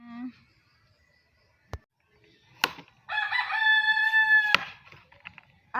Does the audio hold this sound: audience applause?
no